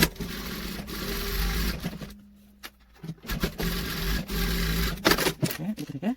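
A sewing machine stitches a jacket being remade into a loose-fit half jacket, running in rough bursts broken by a quiet pause midway, with clattering handling noise toward the end.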